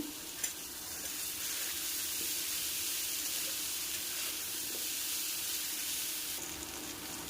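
Masala with turmeric and ginger paste sizzles steadily in a pan, a continuous close frying hiss with occasional stirring scrapes and no voices.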